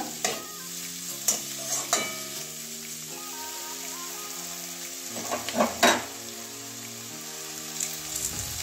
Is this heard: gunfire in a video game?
no